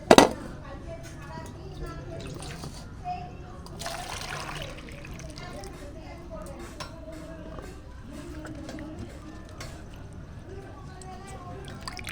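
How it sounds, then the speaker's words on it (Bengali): Raw mangoes are washed in water, with trickling and splashing against a bowl, light clinks of kitchenware, and a sharp knock at the start. "আমগুলো প্রথমে আমি ভালো করে পরিষ্কার করে ধুয়ে নেব"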